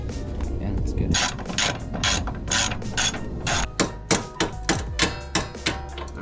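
A ratchet wrench loosens the strut top bolts on a 2005-2009 Mustang GT, rapid clicking bursts coming in quick repeated strokes, close and loud, becoming evenly spaced pulls toward the end.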